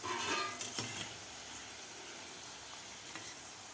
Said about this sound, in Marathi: आपले पकोडे व्यवस्थित तळलेले आहेत.